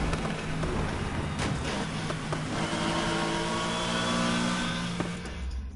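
Nissan GT-R racing engine in Need for Speed Heat screaming at high revs, a loud continuous mechanical howl with rising and falling pitch throughout, no voices.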